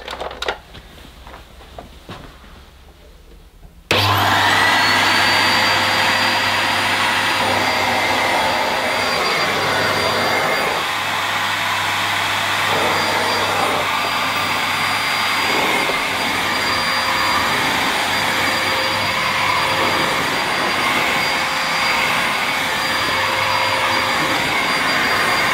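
A Miele Art vacuum cleaner switches on abruptly after a few seconds of quiet room noise, then runs loud and steady with a constant high whine and motor drone for the rest of the clip, with no talking.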